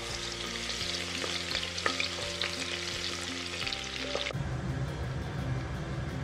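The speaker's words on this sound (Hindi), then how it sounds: "तो इसमें एक छोटी सी प्याज की बारीक स्लाइसेस को डालकर क्रिस्प होने तक तल" Thin onion slices deep-fry in smoking-hot mustard oil with a dense, bubbling crackle and occasional stirring, close and steady throughout with no talking.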